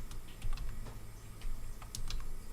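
Quick, light keystrokes clatter on a computer keyboard in short irregular bursts over faint room hum, close and fairly quiet.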